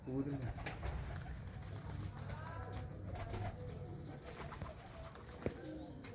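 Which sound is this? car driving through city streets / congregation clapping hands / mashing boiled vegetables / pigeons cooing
pigeons cooing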